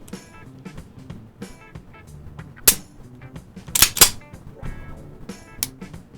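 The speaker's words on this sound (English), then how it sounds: "The trigger, of course, as I mentioned, is a double single action, so we can decock it, long, heavy pull." A CZ P-01 pistol dry fired in double action after a long, heavy trigger pull gives a few sharp, close metallic clicks spaced a second or so apart over a quiet background.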